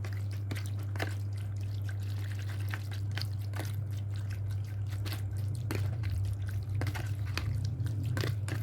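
A spoon stirs a jelly salad mixed with sweetened condensed milk, making soft wet squelches and irregular sticky clicks over a low, constant background hum.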